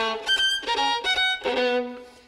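Unaccompanied violin plays a wide-ranging passage from Bartók's Solo Sonata, pushing to the edges of the instrument's range in seemingly scattered notes. Short, separate phrases sound close and alone, the last note fading out.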